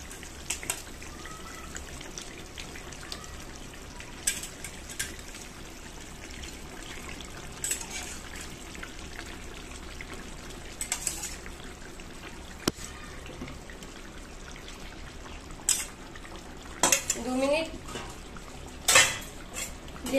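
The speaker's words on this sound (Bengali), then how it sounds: "এবার আমি মাছগুলো দিয়ে দেব।" Tilapia pieces going into a pot of fish curry with ridge gourd and potato, heard as scattered clinks of utensils against the pot and light liquid trickles, with several sharper clatters near the end and no talk.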